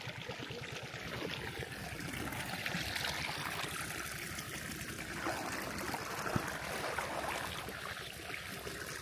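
Water pouring and trickling into a swimming pool set up in a tractor trolley, a steady close gurgling flow with no talk.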